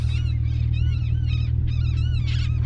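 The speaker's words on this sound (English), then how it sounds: "Those are some parrots, four parrots." Four parrots at sunset near Fish Point by Georgetown give repeated squawking calls in quick bursts over a loud, steady low rumble.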